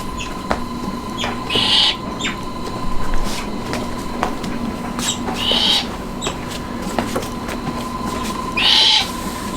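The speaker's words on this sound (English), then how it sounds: "some baby owls that you hear right in the background" Baby owls give three or four short, harsh calls a few seconds apart at a wildlife rescue center, standing out against a steady background hum with faint knocks.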